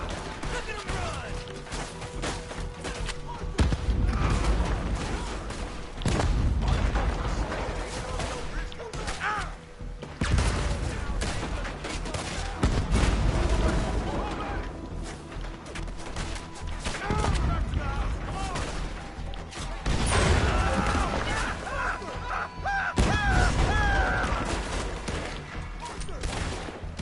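Red Dead Redemption 2 gunfire: heavy repeated shots and bursts of firing in clusters across the scene, with loud thuds and crashes and shouting voices mixed in.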